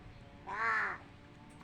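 A single crow gives one short, clear caw at moderate distance against quiet outdoor background.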